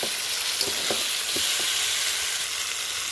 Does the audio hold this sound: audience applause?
no